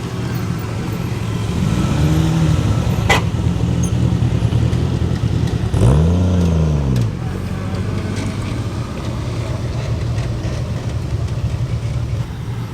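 A classic Rolls-Royce drives past at an outdoor classic car show, its engine swelling as it passes close by around the middle, over general crowd and traffic noise with someone talking.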